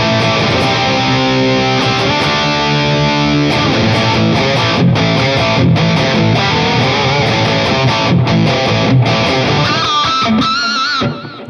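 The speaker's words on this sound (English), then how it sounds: "Okay, a little pig squeal for you." A loud, heavily distorted hard rock electric guitar plays sustained notes and chugging phrases, then closes on a shrill, wavering pig squeal pinch harmonic that fades out.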